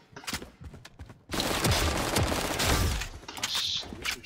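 Video game gunfire, scattered single shots at first, then a long, loud sustained burst of automatic fire with booming impacts, tapering off into a few isolated shots.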